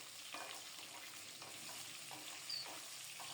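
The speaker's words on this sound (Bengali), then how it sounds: "সরিষার তেলে গোটা জিরা ফোড়নে দিয়ে আলু আর পেঁপে দিয়ে দেব" Potatoes and papaya fry in mustard oil tempered with whole cumin and bay leaves, giving a soft steady sizzle with faint stirring scrapes, quiet and close.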